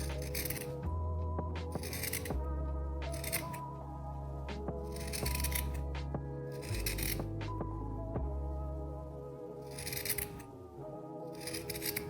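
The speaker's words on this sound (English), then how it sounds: "Then I'm going to come around with my scissors and just create a beautiful little circle." Scissors snip around a fluffy fringe of leftover macrame cord, trimming it into a circle for a Christmas ornament; several crisp, close cuts sound over a low steady hum.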